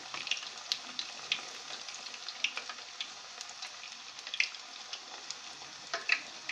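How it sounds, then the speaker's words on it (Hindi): Maize and potato puris sizzle as they fry one by one in hot oil, a quiet steady bubbling with small crackling pops scattered throughout and no voices. "धीरे धीरे से उठाकर एक एक कचौड़ी इसमें डालिए।"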